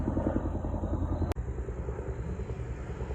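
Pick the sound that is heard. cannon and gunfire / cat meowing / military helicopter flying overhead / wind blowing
military helicopter flying overhead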